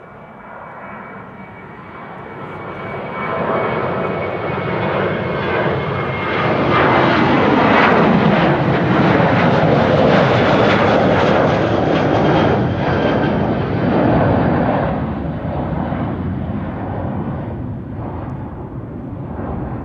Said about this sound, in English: This is KLM flight 1231. The first departure from the Kaagbaan for today's show.